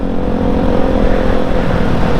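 Loud, rumbling motorcycle exhaust droning steadily close by, with a rough low growl and engine whir throughout, on a busy holiday road between Jakarta and Semarang, Indonesia.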